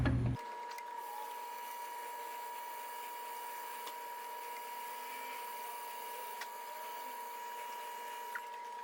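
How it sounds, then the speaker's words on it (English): Power sander working curly acacia wood, a steady, even motor whine with a constant hum that holds at one level throughout, close up and alone with no talking. "I'm gonna get this sanded down a lot"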